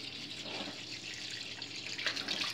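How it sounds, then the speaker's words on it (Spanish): Tap water runs close by while a face is rinsed before shaving a beard, a steady hiss of flowing water with splashing swells near the end. "Damos un repasón con agüita."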